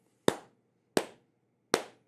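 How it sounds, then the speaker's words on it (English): One person gives three sharp, separate hand claps, each crisp and close with a short ring, spaced roughly evenly about a second apart in an otherwise quiet room. "not a golf clap, just an outright clap"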